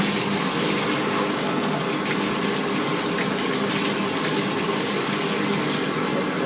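Steady gush of water running down a bathed animal's back to rinse off soap suds, a continuous close, loud wash with no talking.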